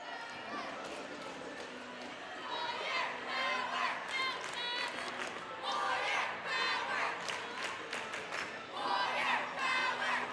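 A crowd at a Cle Elum Roslyn high school basketball game roars and cheers during a timeout, loud and continuous with shouted voices swelling throughout.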